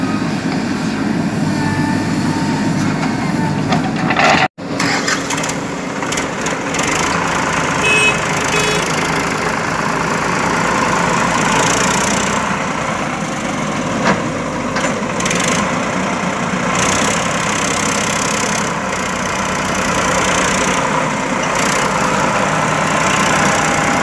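A tractor engine labors steadily while hauling a heavy load of soil, a continuous loud rumble with clattering and creaks throughout, briefly cutting out once near the start.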